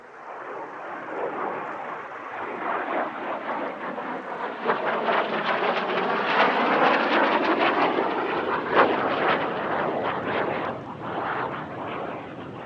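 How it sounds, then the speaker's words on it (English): A vintage Saab J-29 Tunnan, an early swept-wing jet, roars past at an airshow, a broad rushing jet noise that swells to a peak midway and then fades slightly as it moves off. "Five of the organisation's vintage jets took to the air, including the J-29, informally nicknamed the Tunnan"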